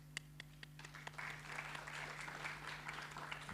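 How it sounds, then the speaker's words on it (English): A lecture audience starts clapping after a few scattered early claps, building into a steady moderate round of applause over a constant low electrical hum. "Yeah, I'll give you a clap."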